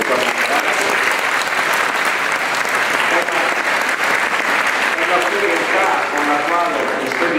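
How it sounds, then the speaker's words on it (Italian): A church audience at a farewell gathering in San Valeriano gives the church choir a sustained round of applause, an even, dense clapping that fills the room for several seconds with faint voices underneath. "il nostro coro qui, eh, al quale noi facciamo un, un applauso"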